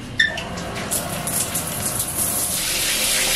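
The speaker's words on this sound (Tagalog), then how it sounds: "Tapos, buksan ko ngayon itong shower." A shower fed by an electric water heater runs, a steady hiss and gush of falling water that grows slightly louder toward the end.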